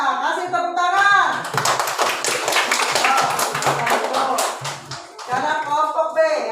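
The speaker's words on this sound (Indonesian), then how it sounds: "Kasih tepuk tangan" A classroom audience of children claps for group A's performance in an Indonesian school lesson. A burst of rapid clapping fills the middle, with children's voices and talk before and after it.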